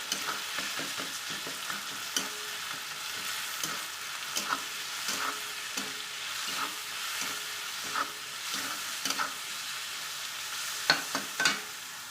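Tomato sautés in a frying pan while cooking a chutney, giving a continuous close sizzle broken by repeated scraping and clinking stirs. The stirs come at an irregular rhythm throughout, and there is no talking.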